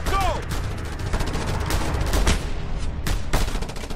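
Dense gunfire in Just Cause 2 laying down covering fire: a constant wash of rapid shots and crackling impacts that runs throughout, with sharper loud bursts near the end and shouted voices mixed in.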